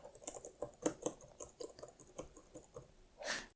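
Light, uneven typing taps on a computer keyboard, soft and close, with irregular clicks and a slightly louder rustle at the end.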